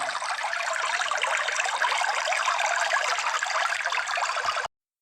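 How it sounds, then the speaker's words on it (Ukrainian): A steady spring brook trickles and babbles without pause, a bright continuous rush of running water that cuts off abruptly at the end. "Пісня весняного струмочка."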